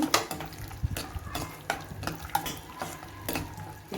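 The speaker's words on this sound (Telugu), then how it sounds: "ఇప్పుడు డ్రై ఫ్రూట్స్ వేసుకొని వేయించుకోవాలి జీడిపప్పు పిస్తా వేసాను" Cashews and pistachios frying in melted ghee in a pan while being stirred, giving a soft sizzle broken by repeated scraping and clinking strokes of a spoon at an uneven rhythm, close and fairly quiet.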